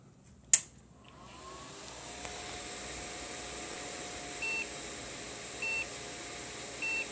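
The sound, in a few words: PC continuously beeping at power-on, diagnostic card test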